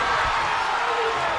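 Loud, dense arena crowd roar in the WWE 2K26 wrestling video game, a steady wall of cheering that runs unbroken throughout.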